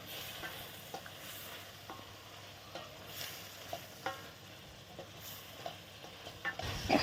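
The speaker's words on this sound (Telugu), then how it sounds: "బాగా కలపాలండి, అన్నీ కలిసేలాగా బాగా కలపాలండి" A spoon stirs chicken curry with masala and coriander in a sizzling pan, with frying hiss throughout and repeated scraping knocks at an uneven rhythm, close and fairly faint.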